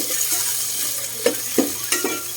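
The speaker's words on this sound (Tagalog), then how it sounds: "Siyempre, haluin mo yan." Sinigang with tomatoes, ginger and fish head being stirred in a pot, over a soft sizzling bed with three distinct scraping knocks of the spoon, evenly spaced near the end.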